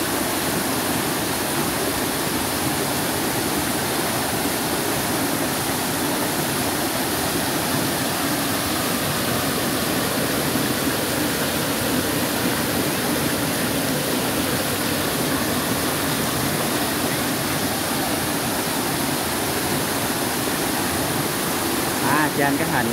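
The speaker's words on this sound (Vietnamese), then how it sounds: "trên suối chảy xuống rất đẹp nha cô chú." Mountain stream water rushing down a rocky slope on Núi Cấm, a steady broadband roar that fills the whole scene without pause, loud and continuous throughout.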